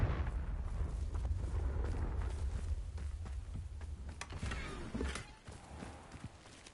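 Confringo blasting spells in Hogwarts Legacy go off as rumbling explosive bursts over a heavy low roar, with sharp cracks near the five-second mark before the noise drops away.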